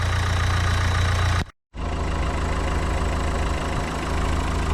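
A Nissan Note 1.5 dCi diesel engine idles while warming up, a steady loud drone with a faint knock, cut by a brief silence before resuming evenly.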